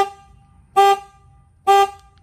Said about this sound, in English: Dang, Duramax got the better horn